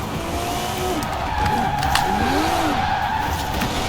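A 1990 Porsche 911 in Forza Horizon 4 squeals its tires in a sustained drifting skid over a steady engine drone, with the whine bending up and down as the car slides.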